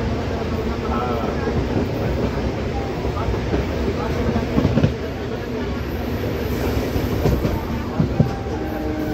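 Patna local train of East Central Railways, Indian Railways, rolling along the rails with a steady loud rumble and clatter throughout, a few sharper wheel knocks near the middle and end, with faint voices in the background.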